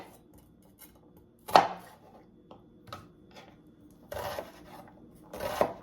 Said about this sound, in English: I'm also chopping up half of a white onion.